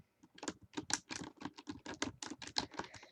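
Computer keyboard keys pressed to play a cat-themed computer game, giving a rapid, irregular run of close, crisp clicks that continues steadily for about three seconds with no voices.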